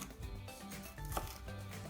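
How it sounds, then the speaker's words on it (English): A knife slices a pepper into small pieces on a cutting board, with soft, quiet, irregular chopping taps close by and no talk. "I'm just going to keep cutting little pieces."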